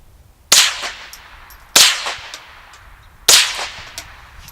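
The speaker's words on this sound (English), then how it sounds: "You should hear the supersonic crack much more here." Three sharp suppressed shots from a Remington 597 .22 rifle fed from a 30-round magazine, each a loud snapping supersonic crack with a short tail, spaced about a second and a half apart, with no talking.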